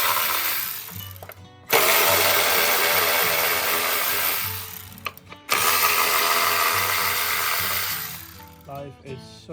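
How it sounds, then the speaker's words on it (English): A power tool whirs in two long loud bursts, each separated by short pauses, while it removes the spark plug coil screws on a 2015 Honda Accord. "And I'm going to use my power tool."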